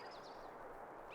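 A small bird chirps faintly in a quiet outdoor scene in the Spycraft: The Great Game video game, two or three brief high tweets over a soft background hum.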